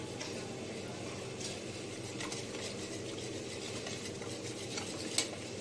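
A dessert mixture is stirred in a cup, producing soft, continuous swishing and light scraping close up, with a faint background hum and one small clink near the end.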